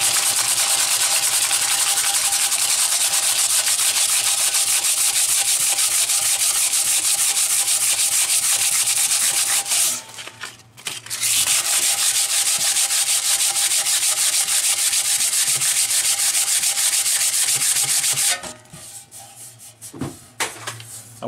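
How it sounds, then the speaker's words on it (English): Epoxy resin is sanded by hand in steady, close, loud rubbing strokes that run continuously for about ten seconds, pause briefly, resume for several more seconds, then stop, leaving a few faint handling noises. "I like the smell of epoxy resin when it gets sanded."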